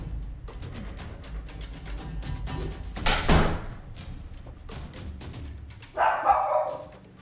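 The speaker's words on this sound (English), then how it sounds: "a black object flies across the doorway and lands with a thud, loud enough to upset Terry the dog" A black object thuds onto the floor across a doorway, a loud single impact, and a few seconds later Terry the dog lets out a short burst of barking nearby over a low steady background.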